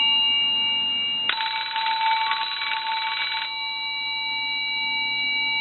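A Western Electric telephone bell ringer set to high ring gives one loud, dense metallic ring of about two seconds, with a steady tone running underneath before and after it.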